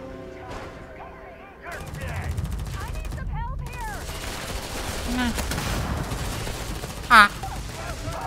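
Bursts of rapid video game gunfire crackle in repeated volleys, with mechanical clicks and a loud single blast near the end.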